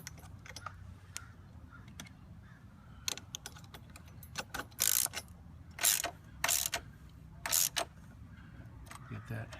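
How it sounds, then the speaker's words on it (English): A 3/4 inch socket wrench ratchets in quick bursts of clicking, close up, while tightening crash bar bolts on a Honda CTX700 motorcycle, with scattered handling clatter and quiet talk around it. "So I'm jerry-rigging a 3/4 inch socket wrench."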